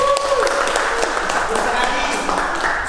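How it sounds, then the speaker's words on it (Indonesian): An audience at a teachers' training session applauds with a dense, continuous wash of clapping that holds steady for about three seconds, loud and close. "tepuk tangan untuk Bu Nia."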